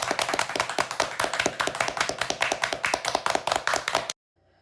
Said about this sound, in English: Let's have a round of applause for going to Vaikuntha.